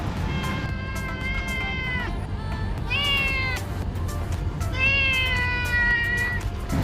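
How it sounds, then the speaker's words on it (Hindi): A cat meows three times, drawn-out and plaintive, with pauses between calls over a steady low background hum. "और ये बिल्ली हमारे घर की है"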